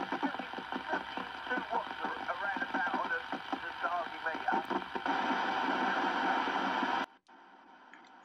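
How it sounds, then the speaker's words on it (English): CB radio static on channel 26 with a local breaker signal coming through, a steady hiss with garbled voice-like modulation that cuts out abruptly near the end. "I was surprised to hear a local breaker coming in on channel 26."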